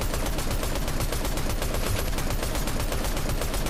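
Sustained automatic fire in a Fortnite match tears at a wall in a continuous, loud, evenly pulsing stream of shots with no pause.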